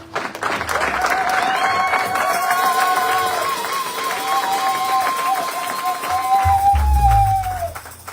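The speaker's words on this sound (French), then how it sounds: "On acclame pour lui." An audience applauds and cheers for brother Cohen at a church gathering, with steady, dense clapping lasting several seconds under a sustained vocal tone and a voice speaking over it.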